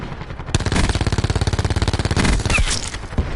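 Fast automatic gunfire from a Black Ops 4 recoil test, one loud, steady burst of evenly spaced rapid shots lasting about two seconds, then a few trailing pops.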